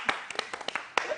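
A small group claps briefly for a mother on a Peshawar TV talk show, a few scattered, uneven bursts of handclaps over about a second.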